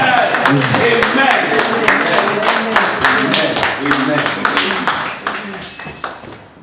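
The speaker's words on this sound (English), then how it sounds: "with the sound of applause, shall we welcome Bishop John Owusu." A crowd applauds steadily with dense, sustained clapping that gradually thins and fades toward the end.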